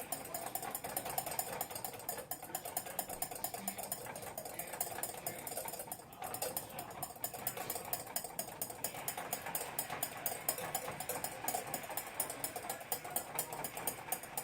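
Hollandaise sauce being whisked by hand, a fast, steady metallic whirring and ticking of the whisk against the bowl that carries on throughout, close but fairly quiet, with no voices.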